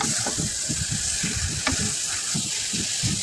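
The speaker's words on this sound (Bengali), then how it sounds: "তেলের মধ্যে শুটকিটা একটু ভালোভাবে ভেজে নিতে হবে।" Dried fish fries in oil with garlic and onion, a close, steady, hissing sizzle with soft stirring scrapes rising and falling underneath.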